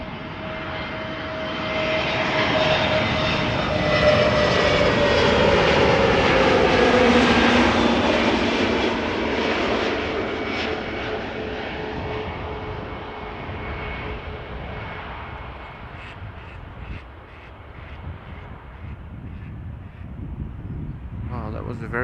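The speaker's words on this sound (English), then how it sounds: "wow, that was a very gentle landing." Airliner landing on runway 06 at Amsterdam Schiphol Airport, a loud sustained jet roar swelling and then fading over about twenty seconds, with reverse thrust rumbling afterward.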